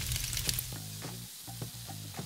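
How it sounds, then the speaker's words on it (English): Pork sizzles steadily in a hot oiled pan, a crackling hiss with soft repeated clinks and scrapes of stirring, close and fairly quiet. "Add a little bit of oil in your pan. Wait to hear the sizzle."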